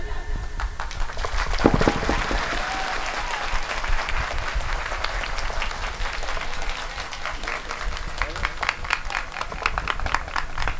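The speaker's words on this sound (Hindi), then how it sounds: "ताली बजा।" A village audience gathered for a devotional singing program claps steadily and loudly for the singer, a dense, continuous applause that fills the whole stretch with a few voices mixed in.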